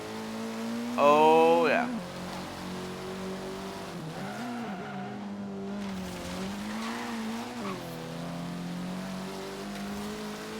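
A Type R car races in the video game Forza Horizon 3, its engine droning and revving with pitch shifts and a brief burst of tire squeal early on, while someone speaks briefly over it.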